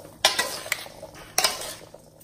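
Mixed vegetables tossed with olive oil in a bowl, giving a few sharp clattering knocks of utensils against the dish with quieter scraping in between, close and fairly loud.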